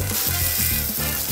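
Chicken breast sizzles and fries loudly in a hot pan, a steady dense crackle running unbroken throughout with no talking.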